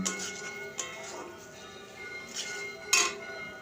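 Cauliflower and spinach curry being mixed in a pot, with a few clinks and knocks of a spoon against the metal rim over a low background, briefly under faint speech.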